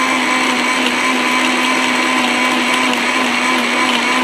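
An electric food processor chopping onion, running as a loud, constant motor whine with a steady high hum throughout and no pauses.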